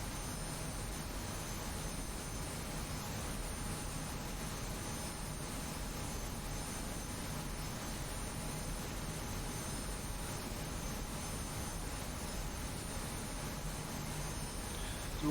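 F-86F Sabre jet engine in flight in a video game, a constant smooth rushing roar with a faint steady whine, unchanged for about fifteen seconds with no voices.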